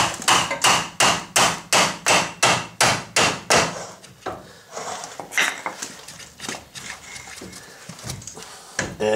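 A hammer strikes a Ford F250 axle to drive out the seal, starting with a steady run of about ten evenly spaced close metallic blows, then giving way to scattered irregular taps and knocks.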